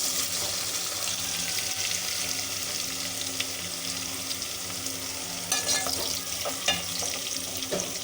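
Aloo gobhi, potatoes and cauliflower, frying in a pan: steady close sizzling and crackling oil that carries on throughout, with a few scrapes and clinks of stirring and no talk.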